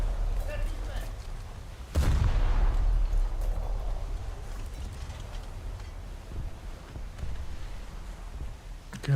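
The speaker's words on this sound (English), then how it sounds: "So let's take some pot shots." Heavy booming shots from a naval battle game set on the French coast, a big loud blast around two seconds followed by rumbling echoes and lighter distant fire.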